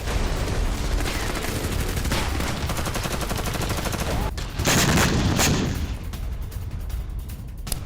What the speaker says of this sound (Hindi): एक के बाद एक धमाके।